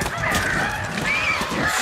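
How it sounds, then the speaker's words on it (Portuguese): Crows cawing in the zombie survival game Days Gone, harsh calls blending into a continuous, fairly loud wash of honking bird cries that runs through the whole stretch. "Os corvos estão contendendo do nada"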